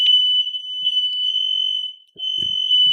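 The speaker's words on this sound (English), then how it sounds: "got all the alarms going off over there. Cell phones, smoke detectors." A smoke detector shrieks with a loud, piercing, continuous electronic tone that breaks off briefly once before resuming, with faint low noises beneath it.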